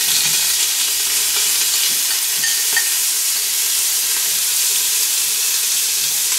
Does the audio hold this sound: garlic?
yes